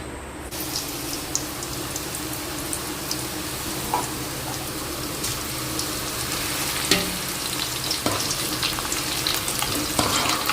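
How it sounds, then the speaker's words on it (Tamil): Potato pieces deep-frying in hot oil in a kadai for French fries, a loud dense continuous sizzle and bubbling throughout with small crackles. "இப்போ கொஞ்சம் கொஞ்சமாக நம்ம அந்த உருளைக்கிழங்கை பொரிச்சு எடுத்து ஃப்ரெஞ்ச் ஃப்ரை பண்ண போகிறோம்."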